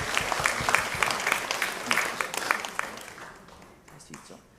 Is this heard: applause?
yes